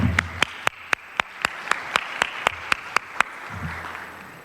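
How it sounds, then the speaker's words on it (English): An audience applauds keynote speakers at a conference. The claps are thin and sparse, with sharp single hits at a fairly even pace over a low room murmur, then they fade out. "Let us applaud them again for launching this conference on a powerful note."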